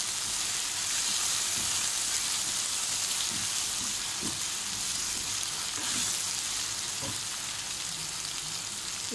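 Okra (bhindi) fries on medium heat with a steady, soft sizzling hiss and a few faint ticks and pops, heard alone without talk.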